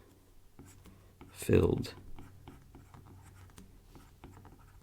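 Chalk or marker scratches briefly across a board during a maths lecture, a short squeaky stroke under a lecturer's ongoing talk.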